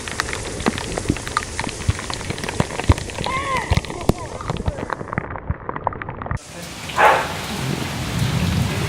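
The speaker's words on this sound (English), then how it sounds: "We got rained out." Heavy rain falls outdoors at a ball game in Guatemala, hissing as a steady dense patter with sharp drop impacts. Brief voices and a low rumble come through near the end.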